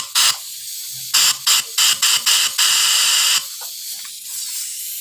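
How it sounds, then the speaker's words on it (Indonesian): Compressed air is sprayed into the combustion chamber of a Yamaha Mio motorcycle engine with leaking valves, giving loud hissing bursts, several short blasts then one longer one, before fading to a quieter bubbling hiss. "kita semprot menggunakan angin"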